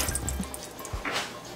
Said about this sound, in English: I want to put my water in my pot